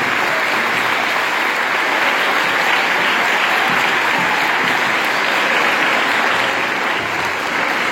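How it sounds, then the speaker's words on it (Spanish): Loud, sustained applause from a large audience honouring students and their teachers, a thick continuous roar of clapping that stays level throughout with no talking over it. "yo quiero pedir un fuerte aplauso por lo que hicieron hoy."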